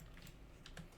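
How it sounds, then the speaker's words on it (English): A few soft clicks from a computer keyboard, quiet and close, tapped in a short irregular cluster during 3D modeling work. "So if I hit 1 on my keyboard, I can pull this guy."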